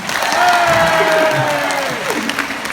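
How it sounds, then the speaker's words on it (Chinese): A small audience at a radio station event applauds, giving a brief wash of clapping with a voice speaking over it. "这时候应该要有掌声"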